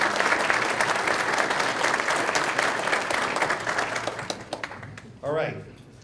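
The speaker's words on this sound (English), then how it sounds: "I'd like to have a nice round of applause for the department during that time." Audience applause at a fire department valor awards ceremony in Linden: loud, dense clapping for about four seconds, then it thins into scattered claps, and a voice comes in near the end.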